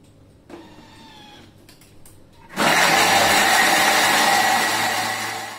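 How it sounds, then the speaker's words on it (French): A food mixer at speed 10 blends biscuits with milk, oil and sugar for a flourless cake, starting with quieter whirring and clicks before surging into a loud, steady broadband roar that holds and slowly tapers near the end. "j'ai mixé mes biscuits avec le lait, l'huile, un peu de sucre"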